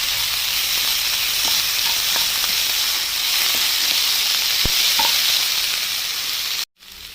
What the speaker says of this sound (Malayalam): അതിനോടൊപ്പം പൊടിയായി അരിഞ്ഞ കറിവേപ്പില കൂടി ചേർത്ത് കൊടുക്കാം. നന്നായിട്ടൊന്ന് വഴറ്റിയെടുക്കാം.